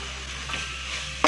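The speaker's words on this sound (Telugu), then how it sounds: "ఇప్పుడు మనం ఈ టమాటోస్ని కొంచెం గరెట్తో ఇలా ఇలా మ్యాష్ చేసుకోవాలన్నమాట" Tomatoes mashed with a ladle in a pan for an omelette curry, a steady soft sizzle and stirring scrape running throughout, with a brief louder knock at the very end.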